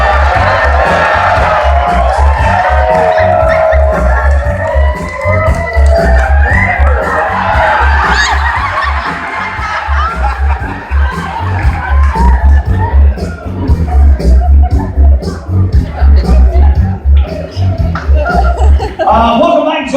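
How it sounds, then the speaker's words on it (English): A large audience on the cruise ship Liberty of the Seas applauds and cheers loudly during a Newlywed Game show, sustained clapping with scattered whoops that swells and carries on for about twenty seconds. "Give the ladies a huge round of applause."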